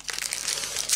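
A foil trading card booster pack torn open by hand, giving a steady close run of crinkling and tearing rustles for about a second with no talk.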